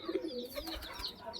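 Pigeons give a brief, soft burst of low cooing, faint and close, lasting only a moment.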